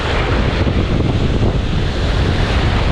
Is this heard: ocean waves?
yes